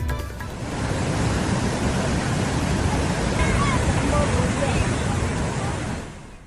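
Floodwater from a cloudburst rushes through a swollen river at Banihal in Jammu and Kashmir, a dense, continuous roar that swells in and holds steady before easing off, with a voice faintly under it.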